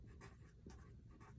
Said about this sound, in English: I will write copy paper on here so you can all see